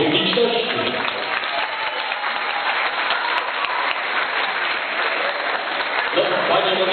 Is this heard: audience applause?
yes